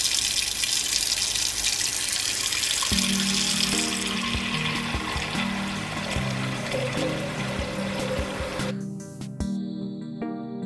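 Tap water runs into a cooking pot in a home kitchen, a loud steady gush whose pitch rises as the pot fills, then cuts off near the end leaving a faint ringing.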